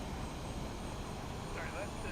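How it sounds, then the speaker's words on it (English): An Airbus A320neo auxiliary power unit runs in Microsoft Flight Simulator, giving a steady, even broadband roar with a faint whine, continuous and fairly quiet throughout. "Give me a second while you listen to the APU."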